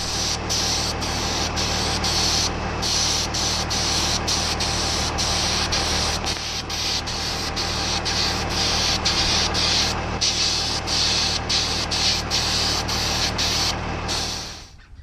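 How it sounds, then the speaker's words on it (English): A sandblaster cleans the metal of an M35 truck patch area before body filler, a loud steady hissing blast that cuts off in several short gaps, close and continuous. "hit it with a sandblaster one more time to clean up"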